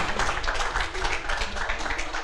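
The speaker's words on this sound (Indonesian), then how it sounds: "Boleh tepuk tangan." An audience at a stand-up comedy battle claps together in a quick, dense burst of applause, close and fairly loud throughout, with no voices standing out.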